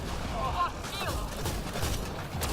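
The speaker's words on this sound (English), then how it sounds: "As you can see, you can survive Hydras when they shoot you." Gunfire from Hydra units in Mass Effect Andromeda multiplayer on the Sandstorm map, heard as a dense rumble of shots and blasts that fills a brief stretch of busy game audio, with someone talking over it.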